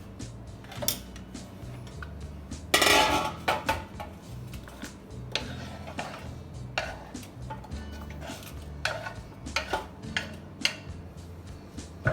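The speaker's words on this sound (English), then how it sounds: "take a bowl and put all these in and mix it" Vegetables for a Mediterranean salad are tossed and mixed in a bowl, producing close, irregular clicks, taps and soft clatter of utensils against the bowl throughout.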